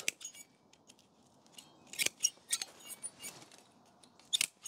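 Pruning shears cut into a peach tree branch with a series of sharp metallic snips and clicks, spaced irregularly and close up, over a quiet outdoor background with no talking.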